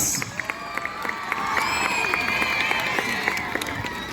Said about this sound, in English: Give a huge round of applause again.